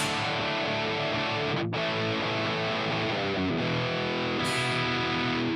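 Electric guitar played through a Boss GT-1000 running an Orange Rockerverb amp patch, a driven rock riff with sustained distorted chords and a brief break partway through, loud and continuous with no talking.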